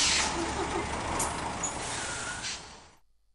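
Trucks rolling through the Akçakale customs gate, laden with cement, food and building materials: a steady, close roar of heavy diesel engines and road noise, with a brief air-brake hiss, fading out near the end.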